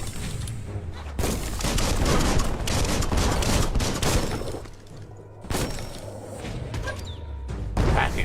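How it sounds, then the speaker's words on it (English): Bursts of explosive blasts and heavy impacts from a bomb lobber weapon in the action game Biomutant, loud and layered with rumbling booms and debris clatter, in roughly two long volleys with a brief lull between. "That's a bomb lobber."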